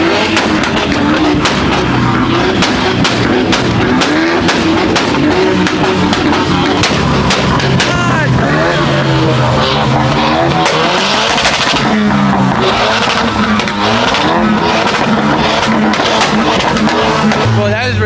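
A loud Nissan GT-R engine revs hard with a raspy, rattling exhaust note from a hole in the exhaust, rising and falling repeatedly, with people talking and shouting over it.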